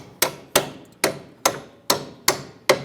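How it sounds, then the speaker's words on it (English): A bolt is tapped through a 2005-2010 Chrysler 300 strut mount during suspension work: seven sharp metallic hammer blows at an even, steady rhythm, close and loud, with no voices. "Tap our bolt through"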